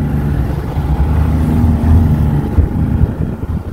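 A 2023 Ski-doo Tundra snowmobile with a 600 ACE engine runs steadily during a ride, its loud, close engine drone mixed with wind rush and no talk.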